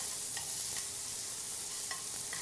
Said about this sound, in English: So in go our shallots. Let those cook for just a minute to get soft.